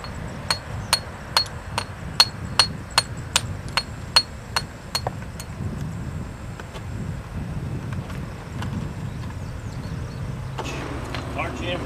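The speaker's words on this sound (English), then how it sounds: "You got to take a hammer and kind of cut them all together. Chisel them out." Hammer striking a chisel to cut stone arches for a monument, about fifteen sharp metallic taps in a steady rhythm over five seconds, then quieter scattered knocks over outdoor background noise.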